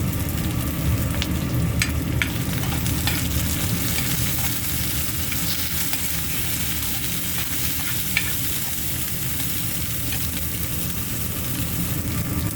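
Tomatoes frying with chillies for vegetable fried rice make a steady, close sizzle under continuous scraping stirring, with occasional faint clicks and no speech.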